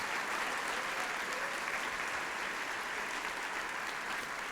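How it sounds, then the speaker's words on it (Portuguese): A church congregation breaks into sustained applause during a sermon, loud, dense clapping from a large crowd that holds steady and fills the whole stretch. "Você pode aplaudir a palavra de Deus?"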